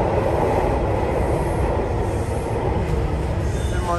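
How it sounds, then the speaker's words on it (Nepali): A metro train pulls into a Delhi metro station with a steady, loud rumble of wheels and carriages, continuous throughout, with faint squeal in the highs and no voices. "मेट्रो आयो"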